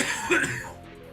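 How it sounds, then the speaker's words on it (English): A single short, rough cough or throat-clear, close and fairly loud, then quiet. "sorry for the random coughing"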